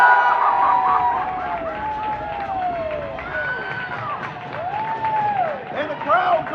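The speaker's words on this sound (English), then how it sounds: "And the crowd goes wild here in Buffalo." A hockey crowd in Buffalo roars after a goal, loud and sustained with mixed shouts and whistles, and a commentator's voice runs through the noise.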